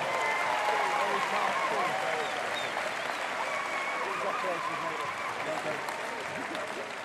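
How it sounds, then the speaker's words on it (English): Spectators at Crufts 2023 applaud the runner-up in the Young Kennel Club Agility Dog of the Year final with a long, steady roll of crowd clapping in a large arena hall, unbroken and even for several seconds. "Please keep the applause going, give them a big hand"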